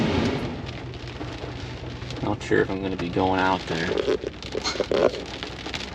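Rain falls steadily as a dust storm moves in over a fishing spot, a constant hissing patter beneath someone talking intermittently.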